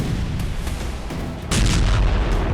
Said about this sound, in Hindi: जबरदस्त धमाके का यह वीडियो पश्चिमी डोनेस्क का है, जहां रूस ने यूक्रेन का एक हथियार डिपो तबाह कर दिया।